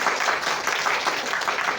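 Audience applause at a Hindi poetry recital, a steady dense wash of clapping sustained throughout at moderate level with no voice over it.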